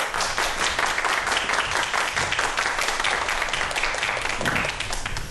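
Sustained, dense applause from a lecture audience welcoming a professor onto the stage, steady and fairly loud throughout with no break and no voices standing out.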